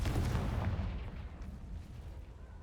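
A Confringo fire spell blasts in the Hogwarts Legacy video game: one heavy, booming burst at the start that rumbles and fades away over a couple of seconds.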